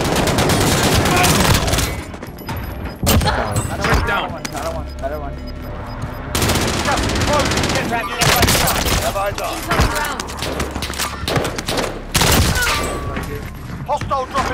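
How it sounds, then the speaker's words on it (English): Rapid video game gunfire in a combat match, dense bursts of automatic shots and explosions filling the whole stretch, with radio voices and callouts talking over the shooting. "Taking fire here."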